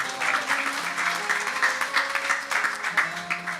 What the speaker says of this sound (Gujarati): તાળી પાડીને વધાવી લઈએ